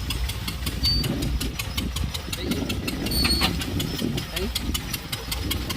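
A tractor engine chugs steadily nearby, running in reverse while hauling harvested crop, with a rhythmic knocking beat over a deep, continuous rumble.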